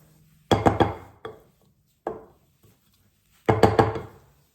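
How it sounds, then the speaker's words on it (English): A spatula knocking and scraping against a mixing bowl of pancake batter, in short clusters of sharp taps and thunks with quiet gaps between them. "I'm just going to use a spatula just to scrape down the sides of the bowl"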